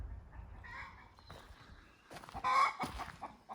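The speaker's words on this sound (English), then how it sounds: "my really noisy hen is over there making noise" A hen clucks and squawks nearby, a few scattered calls building to a louder burst, with faint background rustle.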